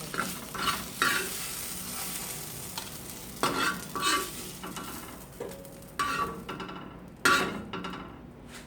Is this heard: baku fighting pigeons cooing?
no